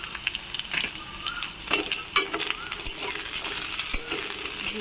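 Drumstick (moringa) pieces frying in a pan, a moderate sizzle broken by irregular stirring clatters and scrapes.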